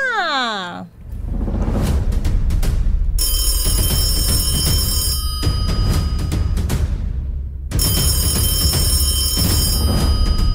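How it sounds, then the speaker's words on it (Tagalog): A telephone bell rings loudly in repeated bursts during a radio call-in prize promo, set over busy broadcast music and jingle sounds. "ihanda na ninyo ang inyong mga telepono dahil baka numero na ninyo ang matawagan ni Wina"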